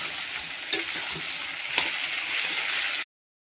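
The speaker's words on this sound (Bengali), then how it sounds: "পেঁয়াজের সঙ্গে আলুটা ভালো করে একটু লাল লাল করে ভেজে নেব।" Potatoes and onions fry in a pan, a steady loud sizzle with a couple of stirring scrapes, cutting off abruptly near the end.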